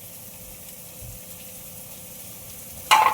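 Eggplant masala sautéing in a pan over a low gas flame, a steady soft sizzle with faint stirring, ending in a brief louder scrape or clatter near the close.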